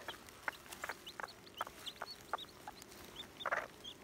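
A wild junglefowl hen clucks in short, repeated bursts, roughly a dozen sharp calls spaced irregularly over a quiet background, moderately close but soft overall.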